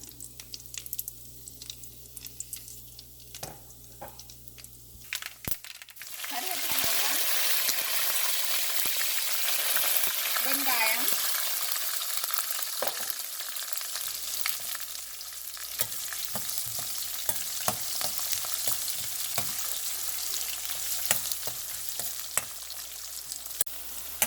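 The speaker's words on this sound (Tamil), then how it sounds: "கொஞ்சம் வதங்கட்டும் கடுகு போடுறேன்" Mustard seeds and radish sizzle in a frying pan: a few quiet stirring clicks, then a loud, steady frying hiss takes over, with occasional spatula knocks and no talking.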